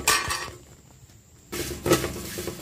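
Brown rice flakes being stirred in an aluminium pan make a few short metallic scrapes and clinks, close and fairly quiet, separated by a softer pause.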